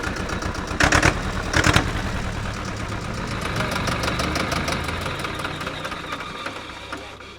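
Tractor engines rumble and idle before a tractor racing and skill competition, a close steady knocking drone with a couple of louder revving bursts early on.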